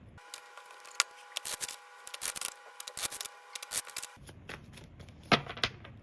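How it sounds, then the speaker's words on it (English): A deck of tarot cards being shuffled by hand, rapid riffling and snapping bursts up close, then softer rubbing and sliding of cards near the end, with no talking. "I laid out the dragons and then I started shuffling for here."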